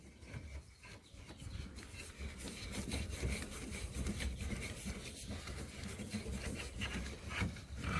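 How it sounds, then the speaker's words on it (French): Fittings being screwed into threaded inserts that hold the legs, likely with a screwdriver, give quiet, steady rubbing and grinding turns at close range in a van fit-out, with no talk. "Et là, on n'a plus qu'à visser."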